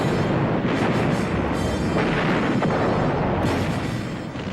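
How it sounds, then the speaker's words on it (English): Naval guns fire from a warship in a sea battle, a loud, rolling barrage of heavy booms and rumbling blasts that merge into a sustained thunderous roar. "Penguin's guns opened up."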